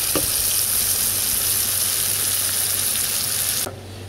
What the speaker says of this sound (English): Keep stirring your lamb and onions.